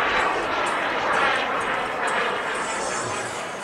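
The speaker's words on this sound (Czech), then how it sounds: "stíhacího letounu Saab Draken J-35 v rakouském Markingu." A Saab Draken J-35 scale model jet makes a low flypast over the runway at an airshow, its steady turbine roar filling the air throughout.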